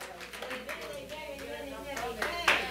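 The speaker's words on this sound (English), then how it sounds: "Clap your hands if the word has made a difference in your life today" A church congregation claps their hands during a sermon, a dense spread of applause mixed with murmuring voices and talk in the room.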